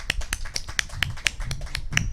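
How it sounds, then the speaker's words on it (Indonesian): Hand clapping at a neighborhood gathering in Cempaka Putih Timur, Jakarta: a steady run of sharp, evenly spaced claps, close and fairly loud, with no talking. "Beri tepuk tangan dulu dong."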